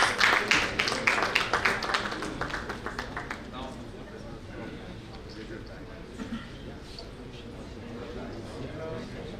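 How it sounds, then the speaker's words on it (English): Audience applause at a TiEcon Delhi 2023 startup conference session. Dense clapping is loudest in the first few seconds, then fades into a quieter room murmur. "Big round of applause"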